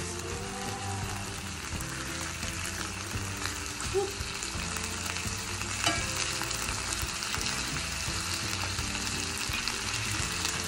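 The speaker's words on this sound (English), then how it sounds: "I'm literally just gonna go ahead and add my lamb chop to this" Sriracha lamb chops searing in a pan, a steady dense sizzle and crackle running continuously at moderate volume with no voices.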